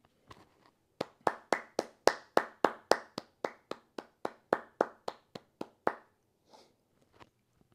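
One person clapping alone at close range, about twenty sharp, even claps at a brisk steady rhythm over several seconds, then quiet with a faint soft sound afterwards.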